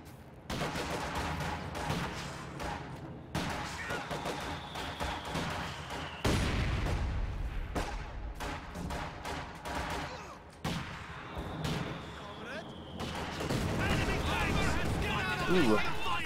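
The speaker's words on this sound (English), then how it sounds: "First barrage about to hit the field now." A video game battle where an artillery barrage hits the field amid dense gunfire and machine-gun bursts, with heavy booms and rolling explosions over a constant din of combat, and a voice commenting over it.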